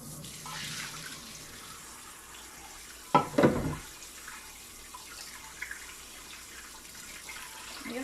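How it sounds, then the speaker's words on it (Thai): Cold water runs from a tap while Thai rice vermicelli (kanom jeen) is rinsed, a faint steady flow with a brief louder splash and some handling in the middle. "จากนั้นเราก็จะเอามาล้างน้ำเย็นนะคะ เอามาน็อกน้ำเย็นจัดนะคะ"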